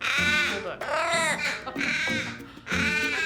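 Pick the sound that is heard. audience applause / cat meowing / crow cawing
crow cawing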